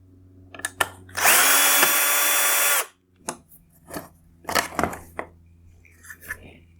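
A power screwdriver whirs steadily for about two seconds while backing out the single Phillips screw on the LED driver module of a 2019-2021 Lexus GX460 triple-LED headlight, followed by a few short clicks and light handling noises.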